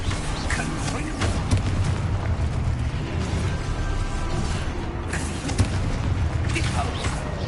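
Confringo spell blasts in a video game, a continuous loud rumbling roar of booms and explosive bursts that stays dense and heavy throughout.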